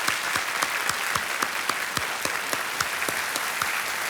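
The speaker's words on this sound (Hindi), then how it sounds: "एक बार फिर से जोरदार तालियां" Enthusiastic studio audience applause on the KBC quiz show set, a dense steady clapping that fills the whole stretch with sharp individual claps standing out.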